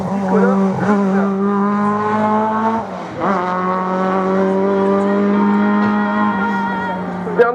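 Race car at a regional hill climb in Hébécrevon, its engine roaring loud and close with steady high revs, a brief lift and gear change midway before pulling hard again, tyres faintly squealing.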